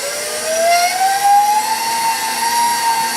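A kitchen mixer with the fine grinder attachment runs at speed 4, a steady motor whine whose pitch rises slowly as it spins up, loud and close with no talking.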